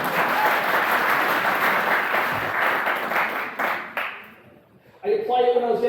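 A live audience at a motivational talk in Brooklyn breaks into sustained dense applause for about four seconds, fading out before a voice resumes speaking.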